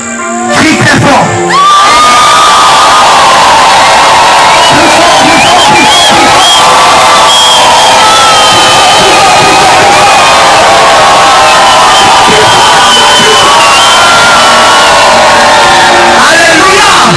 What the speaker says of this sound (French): Crie très fort.